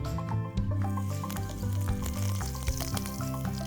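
A thalipeeth fries in hot oil, a close, dense bubbling sizzle with wet squishy crackles throughout, no talking over it.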